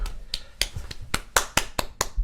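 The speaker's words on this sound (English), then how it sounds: "That's my little clap for Riot right there." A series of about ten quick, crisp hand claps at an uneven, hurried rhythm, close by and fairly loud, with no voices.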